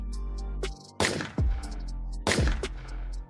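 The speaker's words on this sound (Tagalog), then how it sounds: "Dahil sa dalawang putok ng baril" Two loud gunshots about a second apart, each a sharp crack with a ringing tail, over a steady low rumble.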